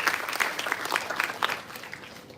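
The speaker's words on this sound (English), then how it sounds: "let's give a round of applause to the montage video" A small audience at a forum on Islamic social finance applauds after a montage video, with distinct claps in a loose, uneven rhythm that fade out toward the end.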